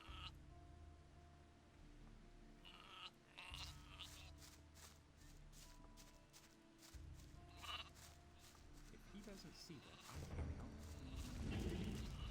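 Sheep bleat repeatedly in short, wavering cries in the video game Gothic II, fairly close, alongside a low hum and scattered clatter, with a voice briefly heard.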